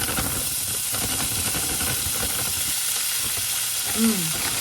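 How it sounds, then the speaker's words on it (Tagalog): Fajitas beef sautés in a pan with a loud, continuous sizzle and crackle and occasional stirring scrapes, close up, with a brief voice near the end. "mag-saute tayo ng kanyang fajitas beef"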